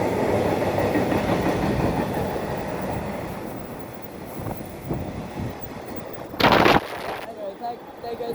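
A Class 66 diesel freight train rumbles loudly through Newport station, with a steady roar and rhythmic clatter of wagons passing close by and a brief hiss near the end.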